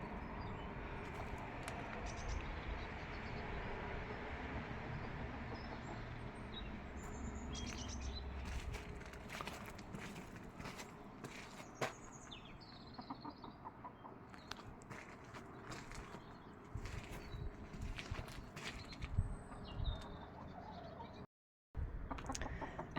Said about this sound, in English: As always, the birds love the mess.